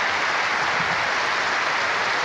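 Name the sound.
football supporters applauding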